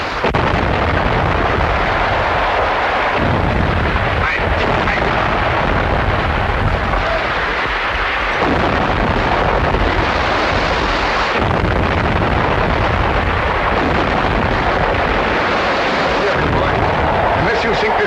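Rapid naval gunfire from a ship firing on a submarine in a 1937 film, a loud, dense barrage of explosive bursts and rumbling blasts over wind noise, with shouted voices cutting through.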